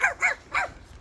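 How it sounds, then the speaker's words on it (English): A small chihuahua barks three times in quick succession on a construction site where a concrete floor is being laid, sharp, close yips evenly spaced with no talking. "brought his little chihuahua to work"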